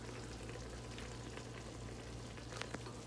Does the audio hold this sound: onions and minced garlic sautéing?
yes